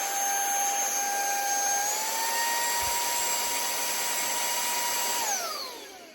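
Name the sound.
Amazon cordless handheld vacuum cleaner running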